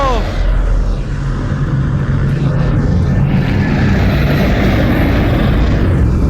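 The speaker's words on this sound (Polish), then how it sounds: "Samolot!" Propeller airplane engine droning loud and steady in Half-Life: Alyx VR, a sustained low rumble with a faint pass of whine above it, holding for several seconds with no speech over it.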